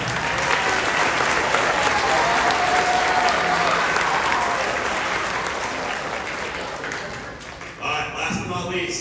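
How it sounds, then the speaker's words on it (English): A school audience at a 7th and 8th grade spring concert applauds the keyboard players, dense sustained clapping that fills the room and gradually thins out near the end. "give them both a big round of applause"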